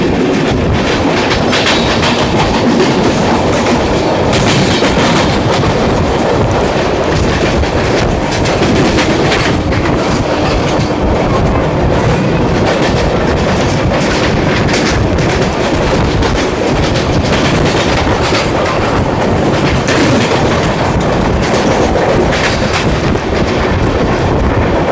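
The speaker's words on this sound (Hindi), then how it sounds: "हमने RCF मैन्युफैक्चर्ड मेमू के साथ क्रॉसिंग।" Indian Railways train crossing an RCF-built MEMU at speed, with a steady, loud roar of passing coaches, rhythmic clickety-clack of wheels over rail joints and buffeting wind throughout, no voices.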